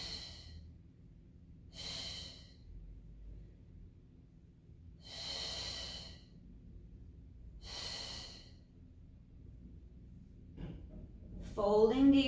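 Four slow, deep breaths during a Pilates mat single leg stretch, each a soft airy rush spaced about two seconds apart, close and fairly clear, with a brief rustle and a short bump at the end.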